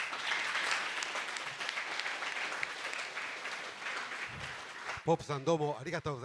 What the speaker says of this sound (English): Please send her another big round of applause to Ms. Hope.